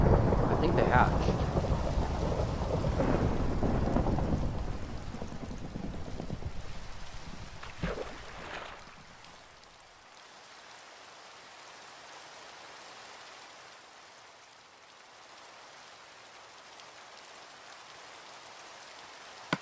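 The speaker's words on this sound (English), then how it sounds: "they changed the rain sound" Heavy rain in a video game pours steadily with low rumbling for several seconds, then drops to a softer, even patter of rainfall.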